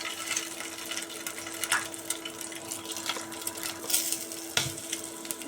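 Eggs frying in oil in a pan for a restaurant-style egg curry, a steady fine crackle and sizzle with scattered pops, moderately quiet and close, with a faint constant hum underneath.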